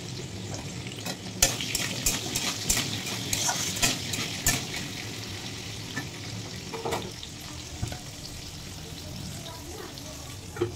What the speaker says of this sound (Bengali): আমি এখন আলুটা ভেজে নেব।